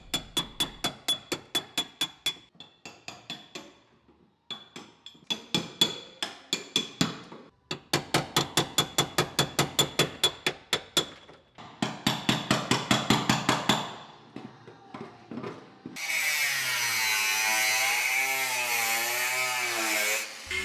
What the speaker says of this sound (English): it's going to be a case of chiseling out a bit more soundproofing and then just cutting the floor out